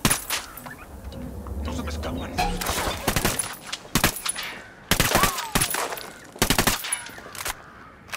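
Gunfire in the tactical shooter Ghost Recon Wildlands beta: scattered sharp bursts and single shots of varying distance over a busy background, with voices talking in between.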